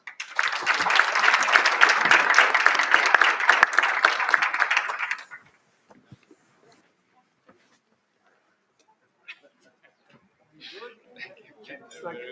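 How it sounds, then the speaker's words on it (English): Applause at a policy dialogue event, a crowd clapping loudly for about five seconds before cutting off abruptly, followed by near silence with scattered small noises and a brief voice at the end. "So please, a round of applause."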